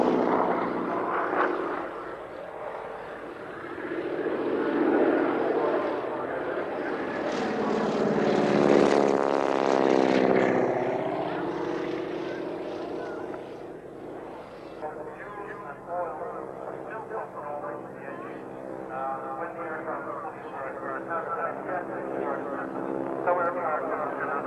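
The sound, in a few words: propeller plane flying at Ulster Airshow, wing walker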